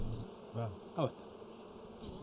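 Honey bees buzz in short, faint bursts close by, each drone rising and fading against a quiet outdoor background.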